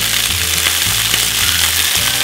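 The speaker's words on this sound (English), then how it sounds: "let's get it up to heat, with some little pearl onions" Pickled pearl onions fry in a hot pan with a loud, steady sizzle and crackle that holds throughout, with small bursts of popping and no voices.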